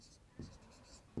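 Short scratchy strokes of writing on a board or paper during a maths lesson, two brief quiet scrapes close by with soft pauses between them.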